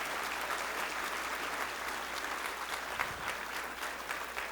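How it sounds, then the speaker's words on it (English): A talk audience at BK Silicon Valley claps steadily in a big round of applause, a dense even wash of many hands held at a constant level throughout, with no voices over it. "Give a big clapping,"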